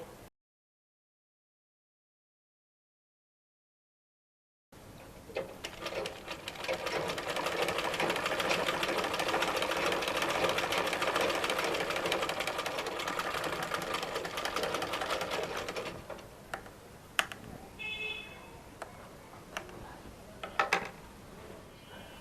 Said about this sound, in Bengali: এই সাইড থেকে আমি সেলাইটা করব মানে এই সেলাইটা সম্পূর্ণভাবে আলাদাভাবে হবে